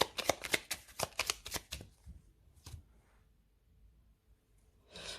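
A deck of Lenormand fortune-telling cards being cut and riffled by hand, a rapid run of close, crisp card flicks for about two seconds, then a single soft slap and near silence before another rustle.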